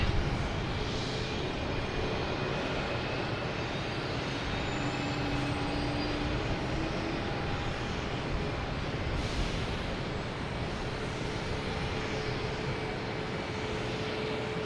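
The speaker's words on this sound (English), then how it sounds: "We have a Delta coming in from LaGuardia" Delta Embraer E-175 jet arriving at Boston Logan from LaGuardia, a constant airy engine rumble heard from afar, with thin whining tones riding over the wash.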